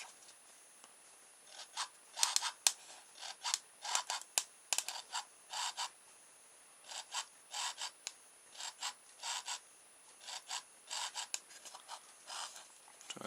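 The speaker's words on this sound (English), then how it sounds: "you actually get the croaking sound coming out of the motor" A small electric motor wired up as a makeshift speaker gives off faint, raspy croaking bursts in uneven clusters, with short gaps between them.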